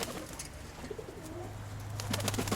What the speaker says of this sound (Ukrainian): Это самый старый голубь.